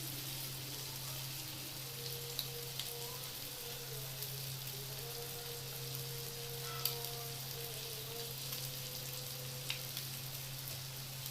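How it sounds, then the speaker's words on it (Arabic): Flour frying in a pan as the base of a béchamel-style sauce for shrimp pasta, a steady close sizzle running the whole time with faint scraping stirs and a low electrical hum beneath. "هحمر الدقيق بتاعها كويس"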